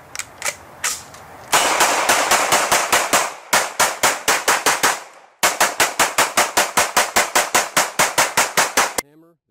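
Rapid strings of sharp, crisp pistol reports from a hammer-fired handgun shooting at drinks, a few scattered shots then long steady volleys of evenly spaced cracks, loud and close, ending with a faint rattle.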